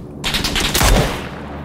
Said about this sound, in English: now someone else is shooting at me